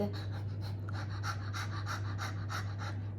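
Quick, rhythmic breath-of-fire panting by a person, about a dozen sharp exhales in a steady fast rhythm, close and clear over a low hum.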